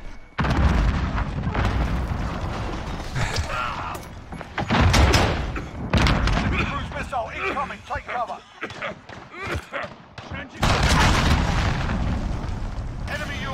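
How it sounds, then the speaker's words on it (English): Cruise missile strike in Call of Duty: Modern Warfare: several heavy, booming blasts and rumbling detonations rise and fall over a noisy battlefield, with someone talking throughout. "it was the cruise missile"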